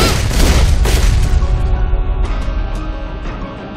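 Characters Neptune, Noire, Blanc and Vert firing their guns in a video game, loud booming shots and rapid bursts up front, then a few sharper, lighter cracks as the barrage thins and fades.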